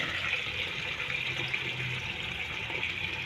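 Cold water from a tap streams steadily into bottles, a continuous close hiss and gush running without pause and with no voices over it.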